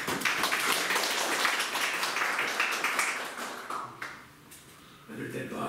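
An improv comedy show audience claps warmly, a dense, lively burst of applause that holds steady for several seconds before fading, and then a voice speaks.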